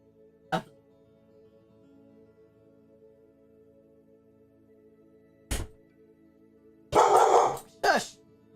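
A dog barks at a neighbor across the way: a single bark, a pause, another bark, then a person speaks briefly nearby over a steady background hum.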